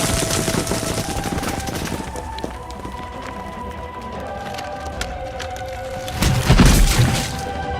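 Airstrike gunfire cutting down Tyrants in the Resident Evil 2 remake video game: a dense, continuous crackling barrage of rapid shots with a heavier rumbling burst near the end, loud and close.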